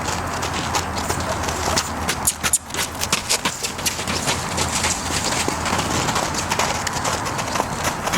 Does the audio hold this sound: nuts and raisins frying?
no